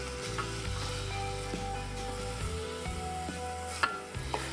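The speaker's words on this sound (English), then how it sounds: "So I'm going to saute these." Golden raisins (sultanas) sautéing in a pan, a faint, steady sizzle with occasional soft stirring clicks, close and alone without talking.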